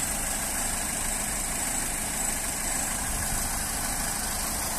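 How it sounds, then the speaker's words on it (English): A Citroen C4 automatic 1.6 petrol engine idles steadily and smoothly, a constant close hum with no voices over it. "Engine sounds nice and quiet."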